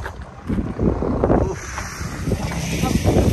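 Wind gusts across an open cricket ground, a steady low rumbling roar buffeting the microphone throughout with no clear speech.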